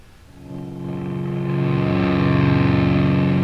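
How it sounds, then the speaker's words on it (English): An electric guitar runs through a Peavey Vypyr amp set to its rectifier model with delay and reverb, the effects loop unused; a heavily distorted chord swells and sustains, loud and thick, with a faint echo tail. "Playing on the rectifier model, got a little delay and reverb in that"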